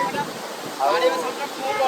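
Mahanadi floodwater surges past Mundali bridge in a broad rushing wash, with wind buffeting the microphone and a voice speaking over it.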